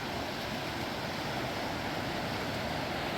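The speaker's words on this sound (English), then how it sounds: "Still a lot of water coming, pouring down." The River Dee in flood at the Brig o' Potarch, water pouring past the bridge in a steady, loud, broadband roar with no letup.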